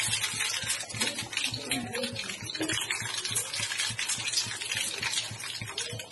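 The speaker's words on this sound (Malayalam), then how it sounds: "അപ്പൊ നമ്മൾ ഇതിനകത്തേക്ക് കടുകിട്ട് കടുകൊന്ന് പൊട്ടിച്ചെടുക്കാണ്" Mustard seeds crackle and pop in hot oil for a Malabar-style coconut milk chicken curry, a dense, steady sizzle with rapid sharp pops throughout.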